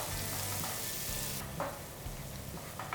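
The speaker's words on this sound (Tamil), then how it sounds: "இப்போ இதில் நம்ம ஃப்ரெஷ்ஷாக அரைச்சி வச்சுருக்க மசாலாவை சேர்த்துடலாம்." Freshly ground masala fries in ghee and oil for egg biryani, a steady close sizzle broken by a few soft stirring scrapes.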